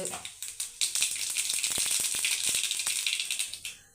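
Mustard seeds pop and crackle in hot oil in a pan, a dense sizzle studded with sharp, rapid spattering bursts, close and steady, fading toward the end.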